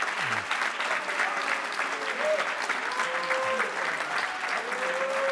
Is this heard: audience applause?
yes